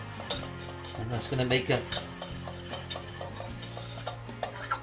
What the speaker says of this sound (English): just to whisk that flour into that butter